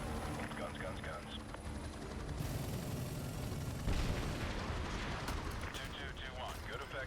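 Artillery fire in Modern Warfare 2 Remastered, a continuous heavy barrage of booming blasts and rumbling gunfire with a stronger impact midway. Radio-style voices talk over the din.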